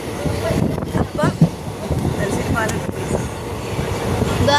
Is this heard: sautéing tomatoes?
no